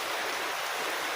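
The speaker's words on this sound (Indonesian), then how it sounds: "Malah hujan pagi-pagi nih." Light morning rain falls in a steady, even hiss, close and unbroken for about a second.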